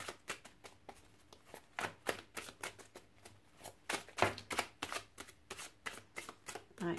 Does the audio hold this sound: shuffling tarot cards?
yes